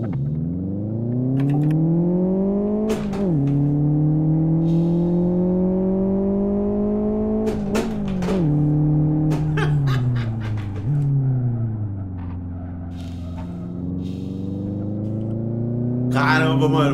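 A powerful car engine in the racing video game Live for Speed roars continuously, its pitch rising through each gear and dropping sharply at gear changes, loud and close.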